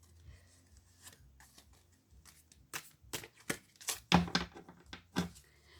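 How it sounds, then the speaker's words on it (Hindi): Tarot cards being shuffled by hand, a run of quick papery riffles and snaps that grow louder and more frequent toward the end, close and without talk. "पहले मैं कुछ टैरो कार्ड शफल कर लेती हूँ मेरे"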